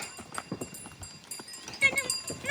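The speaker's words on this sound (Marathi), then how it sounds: "पळापळी करते म्हैस." A buffalo runs about in a village, its hooves clopping in quick, irregular beats at close range while people talk over it.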